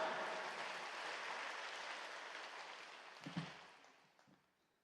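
A congregation at a dawn church service applauds to welcome a preacher, a soft continuous patter of clapping that gradually fades out with a few last claps.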